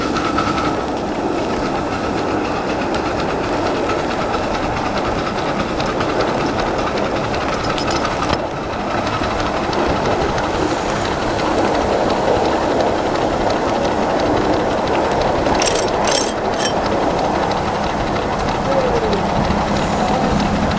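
Nickel Plate Road 311 steam locomotive heard from the cab at St. Croix Railroad, a loud steady roar and rumble of the running engine with rail clatter throughout, plus a brief hiss late on.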